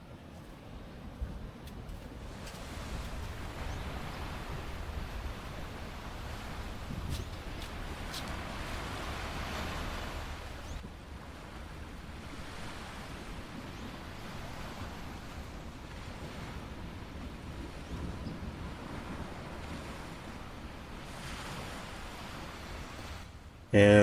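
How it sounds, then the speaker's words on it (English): Ocean waves rolling and crashing onto the beach at Imperial Beach with a cool breeze blowing, a steady distant surf wash with wind noise on the microphone, no one talking. "we took in the cool ocean breeze and listened to the crashing waves"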